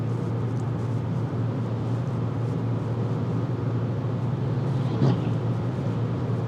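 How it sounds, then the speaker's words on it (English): Tire road noise inside a 2026 Kia Sportage X-Pro Prestige AWD while driving: a steady low rumbling hum fills the cabin throughout, with a brief passing swell near the end as another vehicle goes by. "the main thing is the tire noise that I hear"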